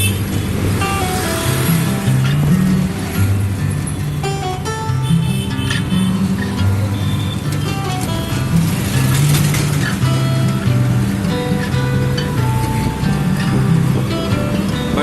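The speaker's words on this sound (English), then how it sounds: "But taking an auto ride in Jaipur is an experience in itself." Auto rickshaw ride through the streets of Jaipur: a continuous buzzing small-engine drone with rumbling road noise and passing traffic throughout.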